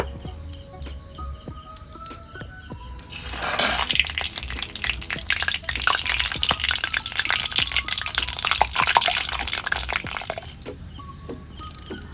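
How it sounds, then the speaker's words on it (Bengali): Dried red chillies dropped into hot oil in a strainer: after a quiet start, a sudden loud burst of crackling sizzle flares up and holds for several seconds before easing off, with faint chirps in the background. "এই শুকনো লঙ্কাগুলো আমি এই ছাঁকনিতে করে ভেজে নেব।"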